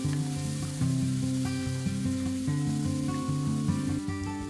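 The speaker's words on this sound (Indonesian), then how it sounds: "啲豬肉炒到咁順緊，就可以將辣椒、九層塔、豆角倒晒落去炒。" Minced pork tossed in a wok with chili, basil and long beans crackles under a layer of sustained tonal music that dominates the mix.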